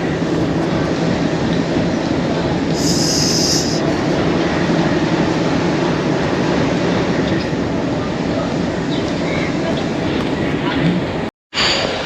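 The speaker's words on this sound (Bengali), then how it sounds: "আমার তো লাগতেছে বন্দে ভারত এক্সপ্রেস। তোমরা একবার সামনে থেকে দেখো।" A Vande Bharat Express train on the Guwahati to Agartala route rumbles loud and close, a steady heavy roar of rail noise with brief high squeal near the start, then a sudden cutoff near the end.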